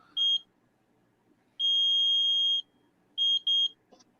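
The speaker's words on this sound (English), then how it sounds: "I'm kind of depressing the button right now on the one that does work, and it's beeping" An electronic device beeps as its button is pressed: one short beep, then a sustained beep lasting about a second, then two quick beeps close together. The tones are clear and high-pitched with no talking.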